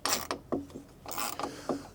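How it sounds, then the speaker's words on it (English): A screw is driven into plastic while fitting a Kenworth truck's exterior door handle, giving a few short, close clicking and ratcheting bursts with small gaps between them. "this is just screwing into plastic, so ease up on her"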